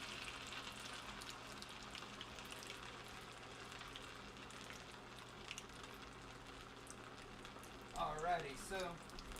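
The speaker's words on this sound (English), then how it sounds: "When I put this potato on, it's going to sizzle." Potato sizzles and crackles in hot oil on a smoking spoon, a steady close frying hiss with a louder burst of spattering near the end.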